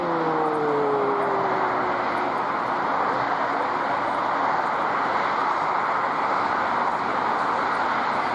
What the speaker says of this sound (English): The A320 loses an engine right after starting takeoff roll.